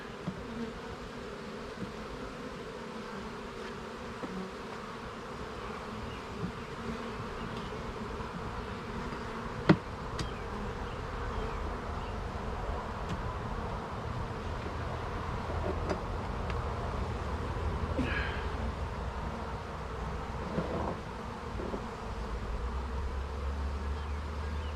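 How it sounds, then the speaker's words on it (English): Steady, dense buzzing of many honey bees, close and continuous, with a few louder passes and faint clicks underneath. "There's a lot more bees down here."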